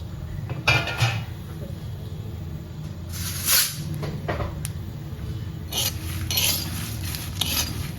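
Poppy seeds, sesame seeds and lentils dry-roasted together in a pan without oil over a low flame, giving scattered scraping and clinking of a spatula against the pan with a faint rustle of seeds in between.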